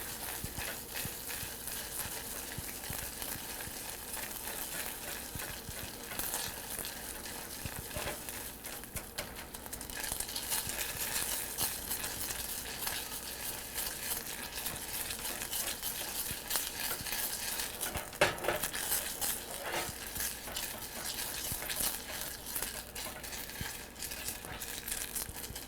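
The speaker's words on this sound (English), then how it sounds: "I'm going to start stirring it so it evenly melts." Sugar melting in a pan for caramel is stirred steadily, giving a soft continuous scraping and faint sizzle at low volume, with no talking.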